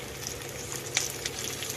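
Pirandai sautéing with curry leaves in a pan, a steady soft sizzle with a few faint crackles and stirring scrapes, close and alone.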